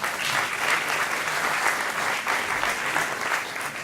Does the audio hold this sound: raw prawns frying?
no